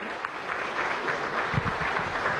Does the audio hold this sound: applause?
yes